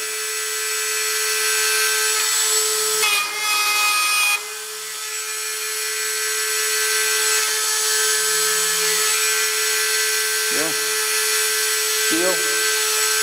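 A small handheld power chamfering tool runs with a steady high whine and hum while cutting aluminum, with short bursts of rougher cutting noise and a few brief pitch sweeps; voices come and go.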